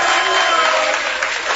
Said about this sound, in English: Can you guys give him a round of applause, please?